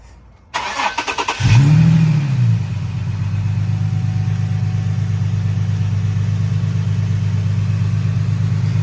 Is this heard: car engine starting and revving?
yes